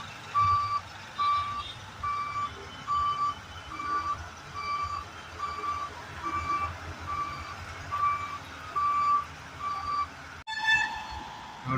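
A crane truck backs up on a city road beside a metro flyover, its reversing alarm beeping in a steady regular rhythm over engine rumble, ending with a brief clunk.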